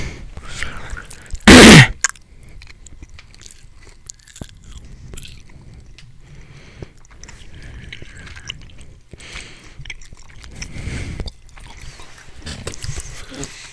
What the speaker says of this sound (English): did you guys know if this bugs you, like we're chewing into the microphone?